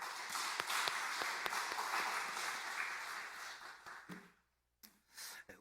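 A congregation at a Korean church's special early-morning service claps together for the men's mission members in a dense, sustained burst of applause that stops abruptly, followed by a couple of faint stray sounds.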